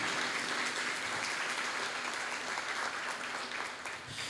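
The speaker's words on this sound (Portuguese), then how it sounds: "vamos aplaudir a palavra do Senhor" Church congregation applauding after a scripture reading, a continuous, fairly distant wash of many hands clapping that fades slightly toward the end.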